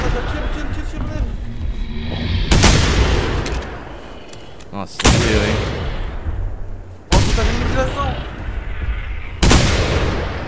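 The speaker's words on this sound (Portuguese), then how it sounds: "eu vou dar um tiro nele." Four loud, booming gunshots in the video game The Hunter: Primal, spaced a couple of seconds apart, with a person talking in between and over the game noise.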